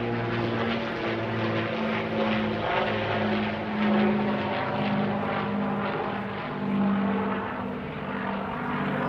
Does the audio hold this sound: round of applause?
no